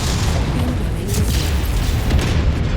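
Missile explosion in a mech video game, heard as a dense, continuous booming rumble with heavy low-end roar and no clear gap, loud throughout.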